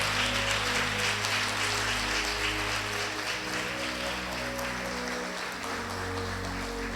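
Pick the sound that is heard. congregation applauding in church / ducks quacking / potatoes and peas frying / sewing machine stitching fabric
congregation applauding in church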